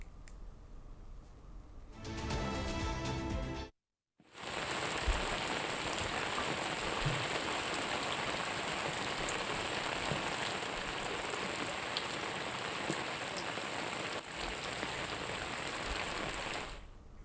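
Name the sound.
heavy rain falling in Hyderabad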